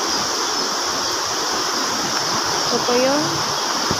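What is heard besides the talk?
floodwater rushing beside a house during Typhoon Agaton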